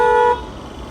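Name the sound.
car horns honking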